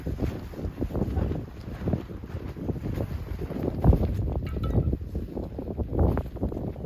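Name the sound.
wind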